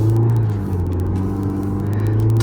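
A 2008 MINI Cooper hatchback driving, heard from inside as a steady, loud engine hum and road rumble with a faint whir, no talking.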